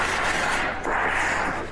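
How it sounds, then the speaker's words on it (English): Room fans and an air conditioner run steadily in the background, a continuous broadband whoosh with a low hum underneath, fairly loud and unbroken, with no clear speech. "Those are just my fans and AC going"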